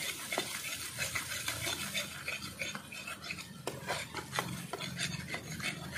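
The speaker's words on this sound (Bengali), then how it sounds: "এবার দিয়ে দেবো উপর থেকে একটু ধনের গুঁড়ো, অল্প করে দেব। ভালো করে মিশিয়ে নিচ্ছি।" Spice paste with a little coriander powder stirred in a pan, a close, continuous rasping scrape of the spoon with irregular clicks against the metal.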